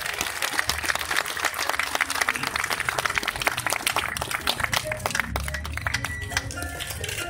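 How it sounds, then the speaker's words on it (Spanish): Crowd at a farewell gathering applauding for Oscar Romero, a dense sustained clatter of many hands that thins slightly toward the end, with faint murmuring underneath. "Aplauso para Oscar Romero."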